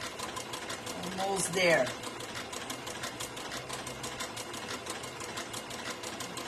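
A sewing machine stitches fabric for reusable New Year's crackers, a steady rapid mechanical whir running throughout, with a person speaking briefly over it.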